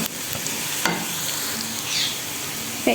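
Onions frying in a pan for a fried moong dal recipe give a steady, close sizzle with soft stirring scrapes and a few sharper clatters throughout, with no talking.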